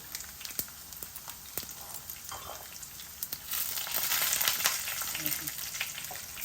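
Crushed raw garlic sizzles in hot tempering oil for a cucumber chutney, a steady crackling fry that swells louder midway, with faint stirring.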